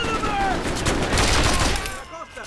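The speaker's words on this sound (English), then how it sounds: "We're taking heavy fire!" Gunfire in the video game Mercenaries 2: World in Flames rattles in a dense, loud burst of overlapping shots lasting about two seconds, with shouting voices mixed in.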